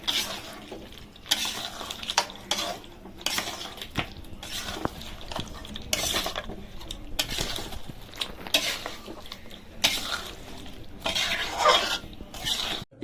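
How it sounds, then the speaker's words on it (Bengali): Mutton is stirred and sautéed in spiced masala for mutton kasha, with repeated scraping of a spoon against the pot in uneven bursts over a low sizzle, close and fairly loud. "এবার আমি মাটনগুলো দেবো, দিয়ে ভালো করে কষাবো।"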